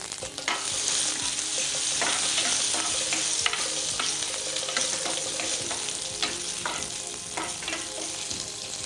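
Curry leaves are stirred into mustard seeds and chillies frying in hot coconut oil, giving a steady, close, loud sizzle with crackling pops and spoon scrapes throughout, with no voices.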